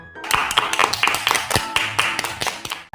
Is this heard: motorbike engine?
no